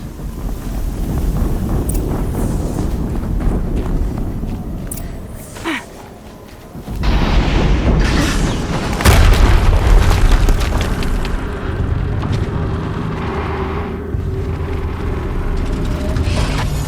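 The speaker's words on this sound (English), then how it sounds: "Another explosion." Explosions in the video game Horizon Zero Dawn, heavy booming rumbles layered over a roaring windy wash, with a louder blast surging after a short lull and rumbling on.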